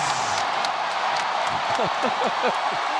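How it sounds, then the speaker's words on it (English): A hysterical arena crowd roars and cheers at a FIBA Asia Cup basketball final between the Philippines and Iran, a dense, loud wall of noise with a commentator talking over it. "The crowd, the hysterical crowd going berserk."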